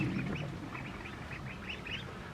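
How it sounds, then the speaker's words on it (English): Young ducklings, around five to six weeks old, give a run of quick, soft, raspy quacks in a steady series, heard close up with no talking. "They're starting to quack too."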